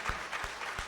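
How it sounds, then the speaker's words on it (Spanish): A church congregation claps at a low level in a steady, dense patter with a few soft thumps, all muffled and somewhat distant. "demos una ofrenda de palmas al que vive, al que reina"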